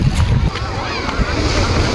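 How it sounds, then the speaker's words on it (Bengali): Sea waves wash onto Digha beach in a steady, noisy roar mixed with wind buffeting the microphone, while a person talks over it. "ঢেউগুলো আসছে দেখেছ?"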